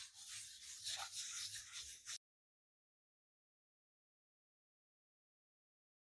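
Sandpaper rubbed in circular motions on an MDF board, a close, brief scratchy rasping for about two seconds before falling silent.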